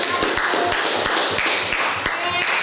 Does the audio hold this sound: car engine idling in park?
no